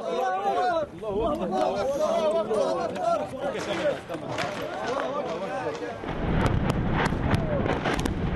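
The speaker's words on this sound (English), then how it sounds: "Gaddafi troops inside the city are supported by intense shelling from those camped on the outskirts." Intense artillery shelling during street fighting in Misrata, Libya: dense, rumbling blasts and gunfire-like cracks that run continuously, getting heavier near the end.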